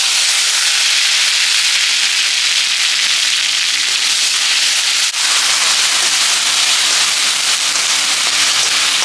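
Ginger and green chilli paste sizzles in hot oil, a loud, steady broadband hiss that holds throughout with a brief crackling burst near the middle.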